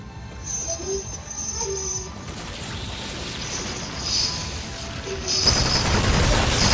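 Gunfire against zombies in Call of Duty Infinite Warfare zombies mode: a low rumbling bed broken by heavier booming bursts, the loudest near the end, with thin tonal game sounds drifting over the top.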